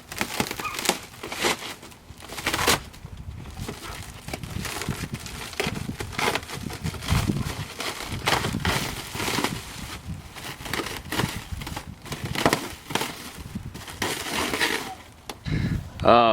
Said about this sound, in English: We're gonna go ahead and unwrap this stuff.